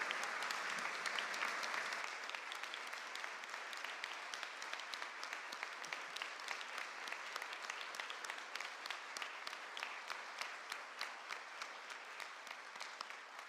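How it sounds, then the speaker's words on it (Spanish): A hall audience at a public event honouring victims claps steadily and continuously, a soft, even applause that stays fairly quiet and distant throughout without any voices. "Que se sienta fuerte este aplauso porque también es para todas las víctimas de nuestro país."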